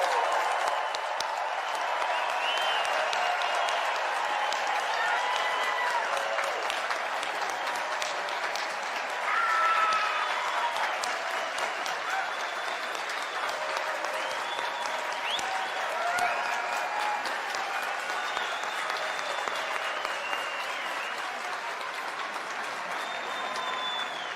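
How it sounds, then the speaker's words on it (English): A large graduation crowd of friends and families applauds and cheers the class of 2025, a long, sustained roar of clapping with scattered whoops and shouts rising through it, loud and continuous, the cheering thinning slightly toward the end. "friends and families, will you please rise and give a loud cheer to members of the class of 2025"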